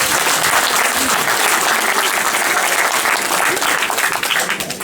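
Audience at a community centre concert in Drumshanbo gives a loud, sustained round of applause, dense clapping throughout that starts to fade away at the end.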